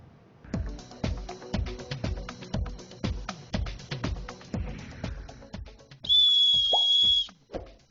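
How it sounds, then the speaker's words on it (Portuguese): A coach's whistle gives one sustained shrill blast near the end. Rhythmic thumping, like a bouncing ball or music beats, comes before it. "Perdão pelo apito, é a força do hábito."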